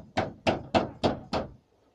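Something gets hammered in with five quick, evenly spaced, loud knocking blows close by, followed by quiet.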